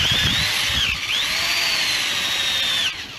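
A power drill bores into garden soil, whining steadily at close range, its pitch dipping briefly under load before holding high again, then cutting off at the end.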